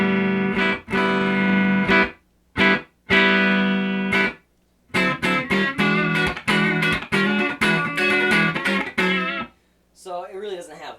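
Electric guitar through a cranked vintage 1976 Traynor YGL-3 Mark-3 amp, driven into clipping: loud, slightly gritty chords and bursts of notes with short gaps between them, ending with a brief voice.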